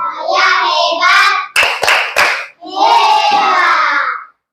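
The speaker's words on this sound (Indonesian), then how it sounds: "Tepuk hebat untuk kita semua." Children clapping a rhythmic cheer in a class, with chanted young voices, then a quick burst of three sharp claps in the middle, followed by more chanting, all close and loud.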